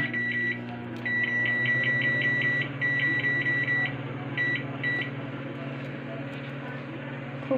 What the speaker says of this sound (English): Put it inside the microwave.